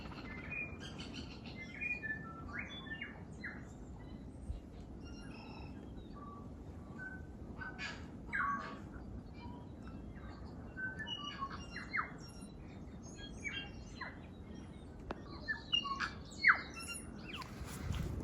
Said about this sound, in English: Seagulls, I think.